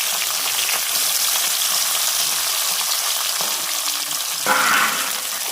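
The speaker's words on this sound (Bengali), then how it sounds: "মাছ ভাজা হয়ে গেলে" Small rohu fish fry in hot oil with a close, dense sizzle and crackle, with a brief louder spatter near the end and no talking.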